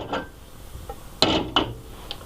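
A non-stick ceramic pan is set down and handled on a stovetop, giving a few sharp metallic clanks and clinks with short pauses between them and no talking.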